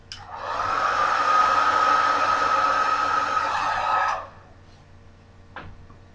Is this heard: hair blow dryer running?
yes